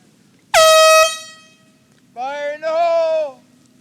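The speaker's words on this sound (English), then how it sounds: "Yeah, they hear the horn." An air horn gives one loud, sustained blast that fades, then a second wavering horn blast follows a moment later, both ringing out in open air.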